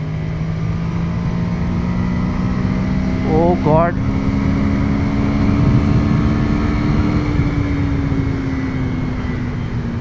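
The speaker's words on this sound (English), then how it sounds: "Now let's just open up the throttle and see what this motorcycle can do." Ducati Monster 797 motorcycle at full throttle on a highway, a steady loud engine drone with a rising tone held throughout, wind roar mixed in and a brief exclamation from the rider partway through.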